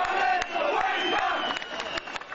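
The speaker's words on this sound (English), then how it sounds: "Police were watchful as the crowd jeered at the Premier standing in their midst" Angry crowd of protesters in Western Australia jeering at Premier Barnett standing among them, a dense continuous roar of many shouting voices with sharp cries and hoots breaking through, loud and close throughout.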